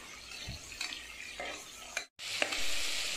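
Tomatoes sautéed in a pan for Chettinad tomato rice, with scraping stir strokes and a soft background sizzle, one louder clatter near the middle followed by a brief gap.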